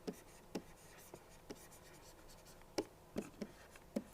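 Faint scratching taps of writing on a board during a reliability engineering lecture, coming in short irregular strokes with gaps between them, quiet and close with no talk over it.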